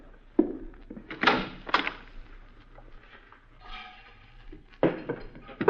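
A closet door in a radio drama opens with a series of wooden thunks, knocks and sliding clatters, fairly close, spread over several seconds with rustling between them.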